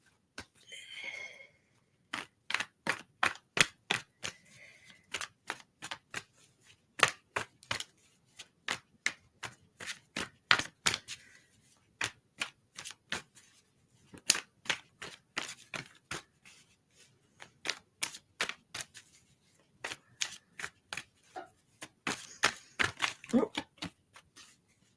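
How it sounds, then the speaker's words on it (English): Tarot cards are shuffled in repeated quick bursts of crisp riffling clicks and snaps, close and clear, with short pauses between the runs and faint voice sounds in places. "I usually get an inclination as I start shuffling how many cards you're going to get."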